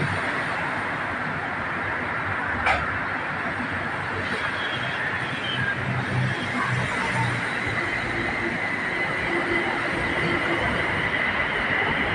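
A BTS Skytrain on the Silom line rumbles and rolls along the platform at Saphan Taksin station with steady wheel and motor noise. A faint squeal cuts in, and a recorded Thai announcement plays over it.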